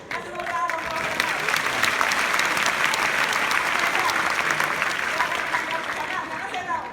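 A stage-show audience in the Netherlands breaks into loud, dense applause that holds steady for several seconds and tapers at the end, with a voice briefly heard over the clapping.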